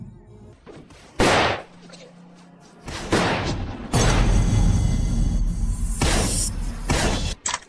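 Gunfire in a film shootout: sharp, loud blasts and crashing bursts separated by brief quieter gaps, with sustained heavy firing in the middle, some impacts sounding like shattering.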